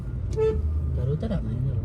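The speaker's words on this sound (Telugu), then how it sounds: "అరే హారన్ కొట్టరా అన్నకు." A car horn sounds once in a short honk near the start, with someone talking over a low rumbling background.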